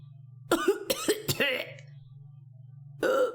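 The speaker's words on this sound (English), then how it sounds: "could that stupid cough possibly sound any phonier?" A few sharp, exaggerated coughs in quick succession over a steady low electronic hum, then a pause and one more cough burst, from the video game Phoenix Wright: Ace Attorney – Trials and Tribulations.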